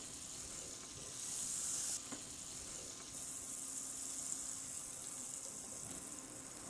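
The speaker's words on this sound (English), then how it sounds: "I'm melting the butter on the skillet," Butter melts over medium heat on a skillet with a soft, steady sizzle, faint and unbroken, swelling briefly with brighter hiss.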